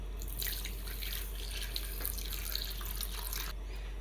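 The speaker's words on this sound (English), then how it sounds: "and then I'm going to add water" Water pours and splashes from a tap into a container of garri, a steady close rush with small drips, stopping briefly near the end.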